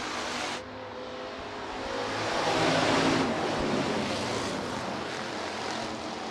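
Hobby stock race cars at Rapid Speedway make a broad engine roar that swells as the pack passes near and then settles into a steady distant drone.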